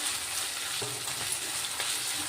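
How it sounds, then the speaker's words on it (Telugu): Ginger-garlic paste frying in a pan for a taro root curry, a steady close sizzle with a few soft stirring scrapes. "ఇప్పుడు వేసుకున్నాం కదా అల్లం వెల్లుల్లి పేస్ట్ ఇది కొంచెం పచ్చివాసన పోయేంత వరకు బాగా ఫ్రై చేసుకుందాం"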